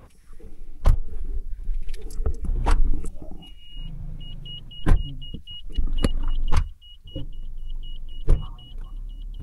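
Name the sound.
Fortuner car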